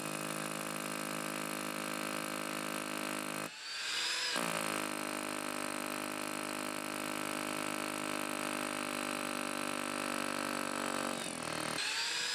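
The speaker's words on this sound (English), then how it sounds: "Then we can just put the hole straight through this brickwork." Power drill boring a hole straight through brickwork for a resin anchor fixing, a loud, close, continuous motor whine with a short pause and restart partway through, then running on steadily.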